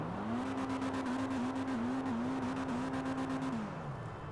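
A Dinka Postlude car engine in GTA 5 Online holds a steady, buzzy idle-to-mid rev with a slight wavering pitch, then winds down near the end, close and continuous.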